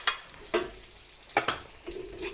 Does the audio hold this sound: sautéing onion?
yes